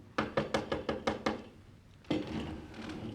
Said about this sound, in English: You'll find Colonel Hawkins behind this knock